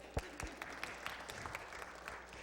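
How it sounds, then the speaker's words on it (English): A small congregation at the Lutheran Church of Christ the King in Moorhead, Minnesota gives brief applause: a few scattered, faint claps heard at a distance over two or three seconds. "Give yourself a round of applause."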